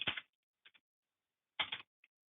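Someone types on a keyboard during a transportation committee meeting, with short bursts of clicky keystrokes separated by pauses of silence in a quiet room.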